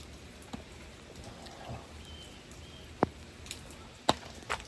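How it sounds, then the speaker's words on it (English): Heavy rain pours steadily outdoors beside an overflowing pool, a soft continuous hiss broken by a few sharper drops and taps striking nearby surfaces. "And it's still pouring the rain."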